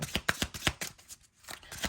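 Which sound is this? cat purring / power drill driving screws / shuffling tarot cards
shuffling tarot cards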